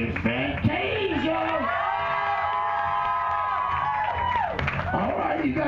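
Fair crowd at a midget wrestling show in Florida cheering and whooping loudly, a sustained roar of voices with shouts rising and falling, plus a voice sounding over the noise.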